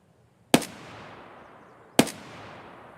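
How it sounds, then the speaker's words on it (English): Two sharp gunshots in Escape From Tarkov, loud and close, spaced about a second and a half apart, each followed by a decaying reverberant tail against a quiet background. "we just fired off our gun a couple times"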